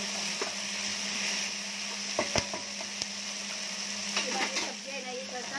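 Paneer chilli with Schezwan chutney stirred in a pan, with a steady sizzle, clinks and scrapes of a spoon against the metal, heard up close.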